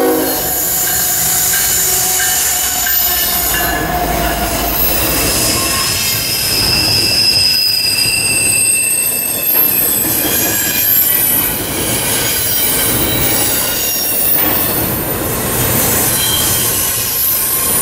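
CSX freight trains passing close by, a loud continuous rumble of rolling railcars with high, shrill wheel squeals rising and fading throughout and a horn sounding in the mix.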